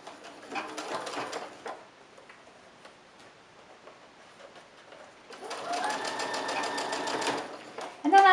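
Two bursts from a sewing machine stitching along the edge of a fabric mask, a close, rapid mechanical whir separated by a quiet pause with faint handling ticks.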